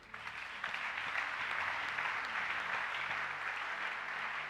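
Church congregation at a Sunday service breaking into sustained applause and acclamation, a dense steady roar of clapping hands filling the room throughout.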